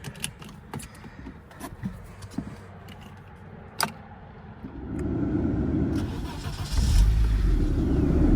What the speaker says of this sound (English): Car starts right up, actually runs fine